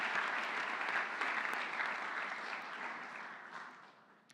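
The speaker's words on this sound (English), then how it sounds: "One more round of applause." Audience applause at a school honors convocation, a steady wash of clapping hands that gradually fades toward the end.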